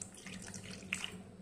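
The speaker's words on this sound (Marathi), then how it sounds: "आपण थोडं थोडं पाणी घालून कणिक भिजवून घ्यायचे" Water runs from a tap and is poured in small amounts into wheat flour for dough, a soft steady trickle close by, with a brief splash near the end.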